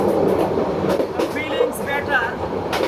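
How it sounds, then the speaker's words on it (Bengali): A night passenger train bound for Kamalapur pulls out and rolls along, a steady rumbling clatter broken by a few high, wavering wheel squeals, with faint voices in the background. "ট্রেন ছেড়ে দিল"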